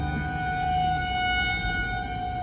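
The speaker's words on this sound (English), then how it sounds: "the tornado sirens are like right there and they're testing them today" A steady wailing tornado siren under test holds several sustained tones throughout, loud and continuous, outdoors near a police station, with no talk.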